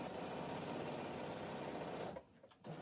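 A sewing machine stitches bag handles in a steady fast whir that stops briefly near the end and starts again.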